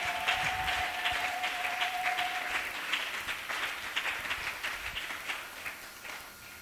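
A church congregation applauds steadily for several seconds, a dense wash of clapping that fades slowly toward the end, with a faint tone briefly sustained underneath at the start.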